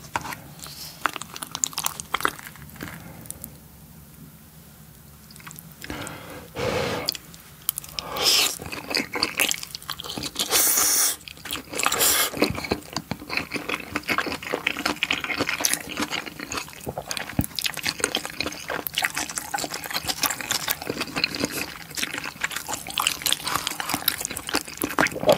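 Spicy Yeopgi tteokbokki eaten with fried bunmoja, with close, wet chewing and soft biting in a steady rhythm and occasional louder crunchy bites, and no talking.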